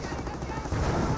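A Hellcat tank destroyer in Company of Heroes fires a volley at a rifleman squad amid battle: rapid, crackling gunfire merged with rumbling combat noise, loud and steady, swelling toward the end.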